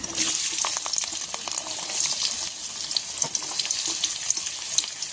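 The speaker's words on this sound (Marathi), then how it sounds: "छान परतून घ्यायचा कांदा" Chopped onion fries in two spoonfuls of hot oil with cumin and mustard seeds in a heated kadhai, giving a steady, close sizzle with small crackles and stirring scrapes throughout.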